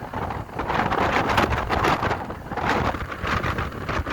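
Strong wind from a sea storm near Arkhipo-Osipovka roars and buffets the microphone without letup, a loud, dense gusting rush with no voices.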